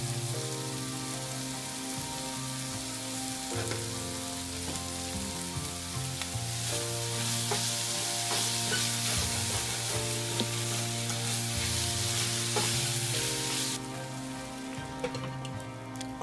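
Goat liver fries in a pan as salt is mixed in, a dense, steady sizzle like rain on a surface that runs loud and unbroken, with faint stirring scrapes underneath.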